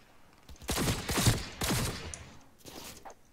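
Gunfire in Cyberpunk 2077, heard as several rapid bursts of automatic fire that come in clustered volleys, loud and close, with a short pause before a final burst.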